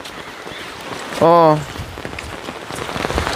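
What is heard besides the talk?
heavy rain falling in a forest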